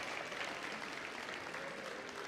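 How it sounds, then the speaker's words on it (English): Audience applause at a high school scholarship and awards ceremony: a steady, dense wash of many hands clapping together, sustained at an even level for a couple of seconds with no talk on top. "Let's give the ladies a round of applause."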